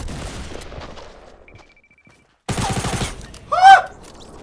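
Gunfire in the video game Fortnite rattles out as a rapid, loud burst after a brief silence, with earlier quieter shots and a voice exclaiming near the end.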